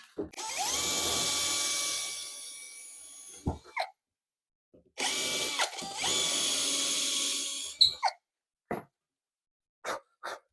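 A power drill whines at high speed drilling a pilot hole, through two long bursts with a short pause between, followed by a few brief spurts.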